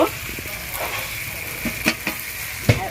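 Spice paste for a chicken curry sizzles steadily in a pan as tomato goes in, with several sharp stirring scrapes and spits rising over the continuous close frying hiss.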